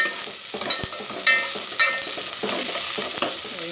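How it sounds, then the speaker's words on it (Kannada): Chopped onions frying in a pan for a homemade rasam, with steady sizzling and repeated scraping stirs from a spoon, close and fairly loud, with no talking. "ಸ್ವಲ್ಪ ಹೊತ್ತು ಫ್ರೈ ಆಗಲಿ ಈರುಳ್ಳಿ ನೋಡಿ ಈರುಳ್ಳಿ ಫ್ರೈ ಆಗಿದೆ"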